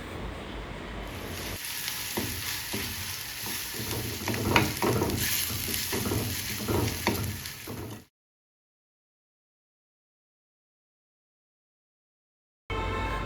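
Crushed ginger, garlic and green chilies fry in oil for a bilimbi pickle, a close, busy sizzle with stirring scrapes and knocks for about eight seconds, then silence, and a short burst of sizzle returns at the end.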